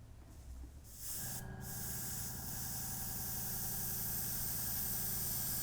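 An airbrush spraying paint onto a model railway layout, heard as a steady, close hiss that starts after a brief pause and holds continuously with a faint mechanical hum beneath.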